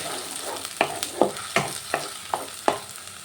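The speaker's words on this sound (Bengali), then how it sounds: "এবার একটু ভালো করে ভেজে নেব যাতে পেঁয়াজের কাঁচা গন্ধটা না থাকে" Onion and tomato paste fries in a pan, a low steady sizzle punctuated by six or seven evenly spaced scrapes and taps of a spoon stirring the thick mixture up close.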